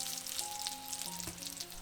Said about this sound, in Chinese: 最后再均匀的煎1-2分钟